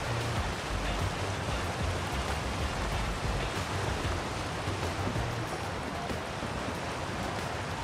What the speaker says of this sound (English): Water. Rushing, gushing water.